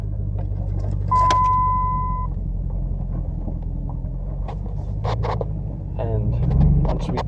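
A 4x4 truck rolls around a corner with a steady low engine rumble and road noise, brief clicks and rattles inside the cab, and someone talking over it.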